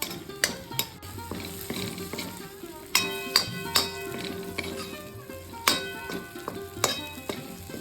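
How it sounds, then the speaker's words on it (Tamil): Okra sautés in a pan for a tamarind curry, a moderate sizzle under repeated sharp metallic taps and stirring scrapes, with some faint tonal kitchen hum and no speech. "வெண்டைக்காய் கூட முழுக்க ஃப்ரை ஆகணும்னு அவசியம் இல்லை பாதி அளவுக்கு வதங்கினாலே போதும்"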